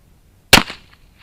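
One sharp, loud gunshot from an Uberti 1849 Pocket cap-and-ball revolver, close by, with a short decaying echo afterward and otherwise quiet surroundings.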